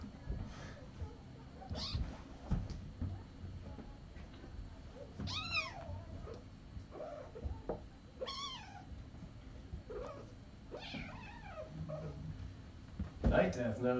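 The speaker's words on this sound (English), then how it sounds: "First official cat fight." Cats yowl and hiss in scattered, rising cries over a low background murmur, with brief squalling outbursts spread through the stretch.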